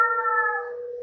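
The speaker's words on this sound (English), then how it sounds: "Okay, if you're hearing that, that's the cat following his bliss." A male cat howls close by in one sustained, wavering wail lasting about a second, steady in loudness and heard alone with no talk.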